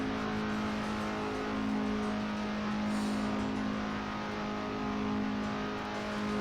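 An FSO Polonez at speed on the Nürburgring, its engine droning loud and steady with a strong low hum, rising slightly as it accelerates, heard from inside the car with no talking.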